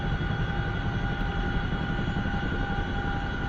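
A CH-47 Chinook helicopter in the DCS flight simulator drones with a loud, steady rotor and turbine hum, a constant whine riding over dense low thrumming.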